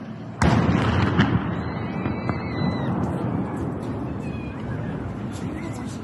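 A bombing strike on a railway station in wartime Ukraine sets off a sudden loud blast, followed by a long rumbling tail and a fainter second thud. Voices speak excitedly underneath.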